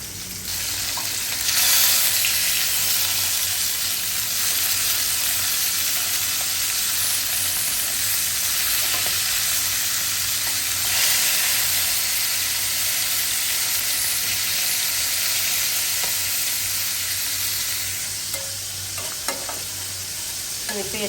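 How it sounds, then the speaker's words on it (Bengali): Onion frying in a pan for fish curry gives a loud continuous sizzle for about twenty seconds, with occasional stirring scrapes and no talk. "পেঁয়াজটা ভাজা হয়ে গেছে"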